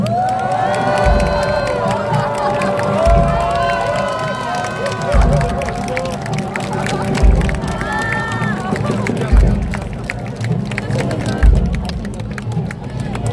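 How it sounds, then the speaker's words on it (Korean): Large outdoor crowd at a Seoul election rally cheering and clapping, with shouting children and a dense, continuous roar of voices throughout, pierced by regular low booming thumps. "여러분 다시 한번 큰 박수를 부탁드리겠습니다."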